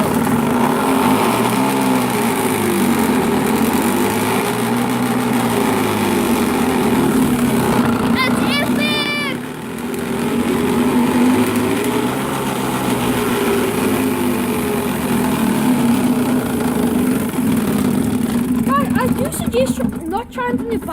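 A flipped-over bicycle rigged to sound like a motorbike, its spinning wheel producing a continuous buzzing, engine-like drone that rises and falls in pitch. It runs loud and close throughout, with brief voices over it.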